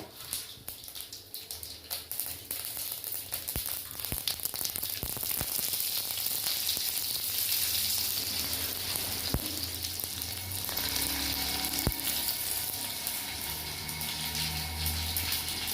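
Mustard seeds frying in a small amount of hot oil for Madurai thanni chutney, a steady dense sizzle with scattered sharp pops and crackles throughout, close and fairly loud, no talking.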